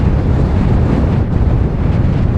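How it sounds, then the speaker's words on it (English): Strong gusts of around fifty miles an hour blow across open grassland in Yellowstone National Park, a loud, steady roar of wind buffeting the microphone with no break. "I don't know what, 50-mile-an-hour gusts?"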